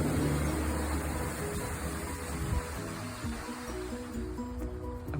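Bentley Brook flows beside a pumping station at night, a steady close rushing of water filling the whole stretch with a constant wash.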